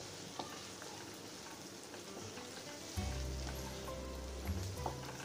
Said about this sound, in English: Add the chopped onions, curry leaves. Saute the onions till it's translucent.